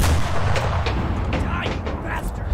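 A high-explosive shell bursts in a confined bunker in the Enlisted video game, a heavy boom followed by rumbling gunfire and battle noise, with a voice talking over it.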